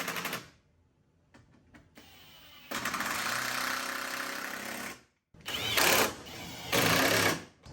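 Power drill runs in bursts, tightening 10 mm bolts on the headlights of a 2021–2023 Ford F-150, with a sustained whir, a pause, then two more short loud bursts close by.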